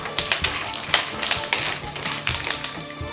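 Coconut, cashews and almonds roasting in a pan for namkeen makhana chivda, with quick irregular taps and clicks as the pieces are tossed and stirred, close and fairly loud.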